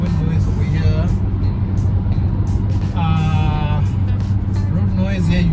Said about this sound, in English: I am experiencing some wind noise over here.